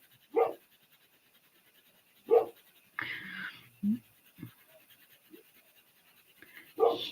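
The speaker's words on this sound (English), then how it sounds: "If you can hear my dog" A dog pants close by in short, separate bursts spread over several seconds, with faint shuffling and scratching sounds between them.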